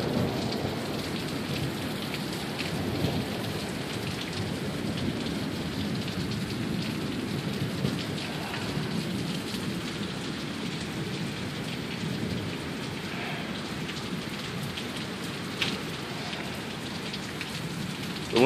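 Heavy rain pours down steadily in Sioux Falls, a dense hiss that holds throughout with a low rumble of thunder underneath.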